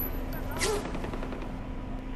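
Gunfire in the video game Far Cry 4 at an airport, a sharp shot amid continuous rumbling battle noise with a steady hum underneath.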